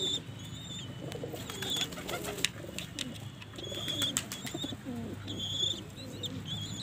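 Soft cooing of a black fantail pigeon with light chirps and a faint flutter of wings, steady low murmuring coos repeating over the whole stretch against a mild background.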